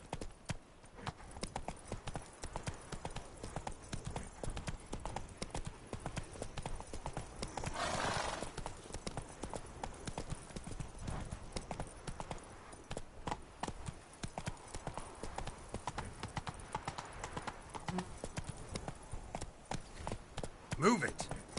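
Horse hooves clip-clop steadily along in The Witcher 3: Blood and Wine, a continuous walking rhythm with a brief whinny partway through and occasional game dialogue on top.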